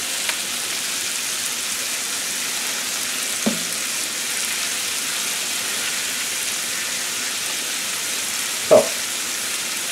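Chopped vegetables with thyme and rosemary sweat in a skillet, giving a soft, steady sizzle throughout with a couple of brief knocks of a utensil against the pan.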